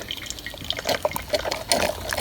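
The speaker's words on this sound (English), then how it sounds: "we've got a good drip" A Walmart drip coffee maker, repaired after it stopped dripping, lets water dribble and trickle into the pot in quick, irregular, close drips that are moderately loud and heard alone.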